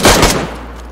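Gunfire in the survival video game DayZ, a loud close burst of two or three rapid shots followed by a fading echoing tail, with no talking.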